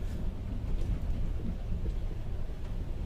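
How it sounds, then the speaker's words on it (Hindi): Steady, dense heavy rain pours continuously with a low rumbling wash underneath, heard from the Telangana Express train, loud and close throughout with no voices. "काफ़ी तेज़ बारिश हो रही है"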